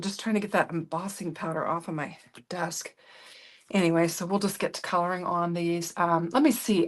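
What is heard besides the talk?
None of the usual background noises is heard.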